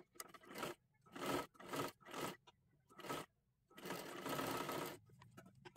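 A sewing machine stitching a curved dress neckline runs in several short whirring bursts, each separated by a brief pause, followed by one longer continuous run near the end, close and fairly quiet.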